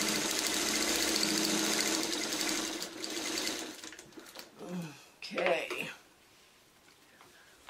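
A sewing machine stitches fabric strips for a quilt block in a steady, fast, loud mechanical run lasting several seconds, then slows and stops while someone speaks over the end.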